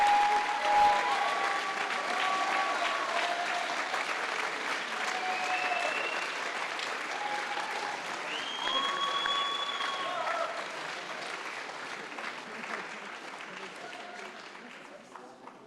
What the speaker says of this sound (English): Let's hear a final round of applause for our undergraduates